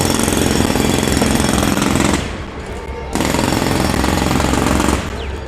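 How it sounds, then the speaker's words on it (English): Loud, close jackhammer hammering at road construction in Seattle, running in long continuous bursts with a brief pause between them, with no voices over it. "What you're hearing is a jackhammer."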